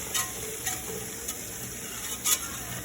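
Flour browning in a hot frying pan as the base for smothered pork chops, giving a soft, steady sizzle with a few brief stirring scrapes, close and quiet, with no talk.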